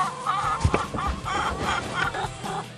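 Hens clucking at an egg farm with about 4,800 chickens, giving a continuous chorus of overlapping calls and squawks, fairly close, with a soft voice briefly underneath.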